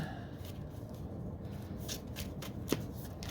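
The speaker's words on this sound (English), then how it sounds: "Let's give it a good shuffle." A deck of playing cards is shuffled by hand for a card game, soft quick riffling and flicking bursts repeating close by, quiet and without voices.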